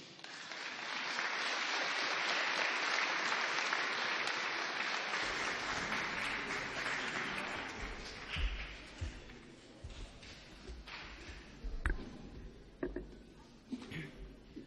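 Applause at an 11 November Armistice commemoration, swelling into full clapping from a crowd and then thinning into scattered claps and thumps as it fades.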